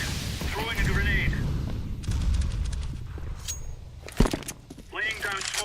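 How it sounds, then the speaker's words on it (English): A grenade thrown and exploding in the competitive shooter CS:GO, with a sharp burst landing midway through amid continuous game noise, gunfire and a rumbling low background, while a voice speaks at the start and near the end. "Throwing a grenade."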